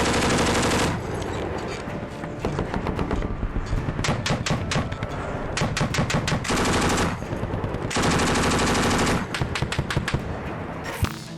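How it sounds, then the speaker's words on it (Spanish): Rapid bursts of machine gun fire crackle back and forth, broken by heavier roaring blasts of rocket-propelled grenades and mortars, loud and close with short pauses between volleys, during a Taliban ambush on US and Afghan troops. "Ametralladoras, granadas propulsadas por cohete y morteros rugieron al unísono contra los norteamericanos y sus aliados afganos."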